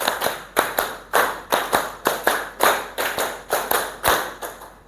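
A class of students claps in unison in a counted rhythmic pattern, sharp, evenly spaced claps grouped in steady repeating sets, close and clear with no talking over them.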